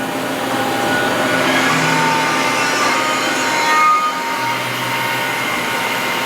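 A CNC mill runs steadily in a motocross parts machine shop, set up to cut suspension linkages, giving a continuous whirring machining drone with faint tonal whines throughout, fairly close and without talk.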